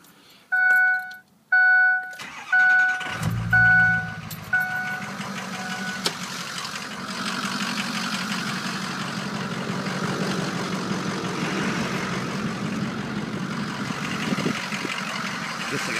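A 2005 Ford F250 diesel 4x4 pickup gives a few chime beeps as the key turns, then cranks, catches and settles into a steady, rumbling diesel idle nearby.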